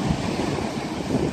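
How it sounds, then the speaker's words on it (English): Strong seaside wind buffets the microphone in a constant roar, with a faint wash of surf beneath it. "I know the wind's picking up"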